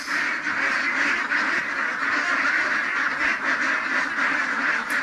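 Domestic ducks on a farm give a dense, continuous chorus of loud, close quacking that keeps going throughout.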